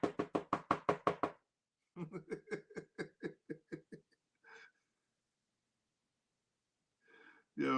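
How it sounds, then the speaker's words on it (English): A door is knocked on in two quick rhythmic series of sharp raps separated by a pause, followed by a few brief voice sounds like chuckles. "yo, Brittany, open the door"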